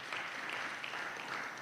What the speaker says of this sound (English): Kenyans, you must clap for yourselves